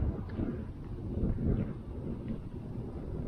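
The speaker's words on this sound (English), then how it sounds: "Oh, wow, wind is crazy windy. It's extremely windy now." Strong gusty wind buffets the microphone outdoors during a small drone flight, a low, rumbling roar that swells and eases throughout, with no voices.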